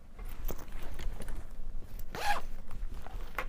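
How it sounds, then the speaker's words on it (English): A handbag zipper on a fabric sling bag is zipped in one quick, raspy pull, preceded by soft handling and rustling of the bag, close and alone without speech. "I did use handbag zippers on both of these front zippers"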